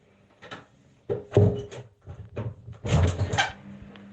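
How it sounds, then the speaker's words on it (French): A toilet door locked from the inside being pulled open from within: a run of loud wooden knocks, rattles and bangs in uneven bursts, close by, with a short lull in the middle. "la porte elle est ouverte"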